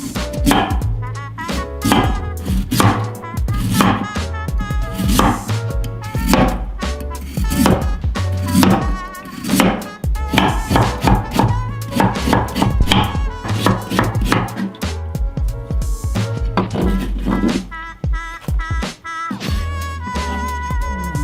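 A knife chops radish rapidly and rhythmically on a cutting board, steady crisp thunks close by, with brief pauses between runs.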